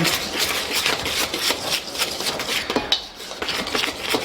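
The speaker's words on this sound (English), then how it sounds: "And let's just whisk it together." Dry bannock ingredients being whisked together in a bowl, a brisk rhythmic scraping and clinking of the whisk close up, continuous for several seconds without talk.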